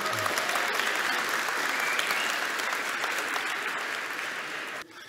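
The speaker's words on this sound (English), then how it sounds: "Give a warm round of applause for Ken Wheeler." An audience claps for speaker Ken Wheeler at a 2019 tech talk, a dense and steady round of applause that slowly thins and cuts off near the end.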